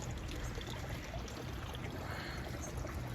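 A decorative fountain at an indoor plant center gives off a faint, steady wash of trickling, splashing water, continuous and soft with no talk.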